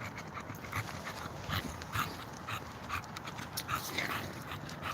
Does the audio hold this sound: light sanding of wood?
no